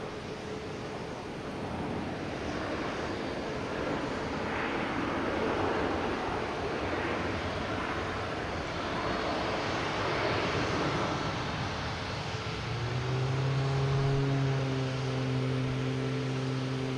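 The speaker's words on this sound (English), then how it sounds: "Oh, it's a prop plane." A propeller plane passes over Boston Logan Airport on a Friday evening, a steady engine drone that swells slowly and adds a rising tonal hum toward the end, heard alone without talk.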